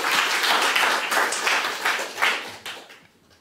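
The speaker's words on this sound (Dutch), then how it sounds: "Geef hem ook een warm applaus." Warm applause from an audience at a Dutch-language talk event comes as a dense, steady wash of many clapping hands, fairly loud, fading out over the last second with no speech.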